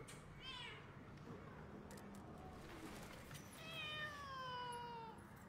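A cat meowing in a Tamil film scene: a drawn-out meow early on, then louder wavering meows near the end over a steady background hum.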